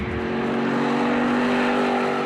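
Mercedes SLK 55 AMG roadster with a 5.4-litre V8 in a car of about 1.5 tonnes, holding a loud, steady engine drone with a strong low harmonic hum throughout, close and without talk.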